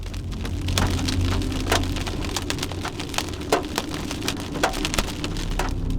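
Half-inch hail pounds a car inside a supercell storm near Sterling City, Texas: a dense, continuous drumming with frequent sharper cracks standing out, loud and close, with no talking.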